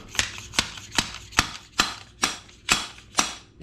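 Eight sharp metallic taps, about half a second apart, ring out up close as a fork seal driver seats a new fork seal in a WR250R motorcycle fork leg, with no talking.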